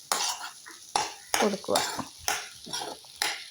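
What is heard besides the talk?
stirring sardine roe mixture in a frying pan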